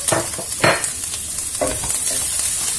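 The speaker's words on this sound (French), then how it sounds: "je vais commencer à rajouter l'ail, mon bouillon cube, la moitié de mon persil et de ma coriandre" Ingredients sizzle and fry as garlic, a stock cube, parsley and coriander go into a frying pan, with a few stirring scrapes over a steady loud hiss.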